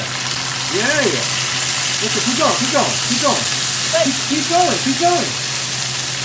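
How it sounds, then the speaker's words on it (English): Steady sizzling of hot sauce in a hot frying pan under several voices talking, with a constant broadband hiss throughout. "It's only going to sizzle a little bit."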